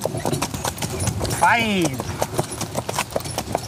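Shire horses trotting with steady hoof clip-clops on a hard road, close by, with people talking over them and a brief whinny-like sweep in the middle.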